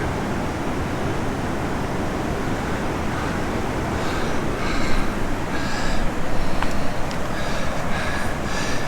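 A steady broadband roar of rushing water in Yellowstone's Grand Canyon near the Lower Falls fills the scene, constant and fairly loud, with faint higher chirps or squeaks drifting in partway through.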